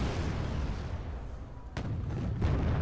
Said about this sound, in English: Bradley's firing in unison at the robots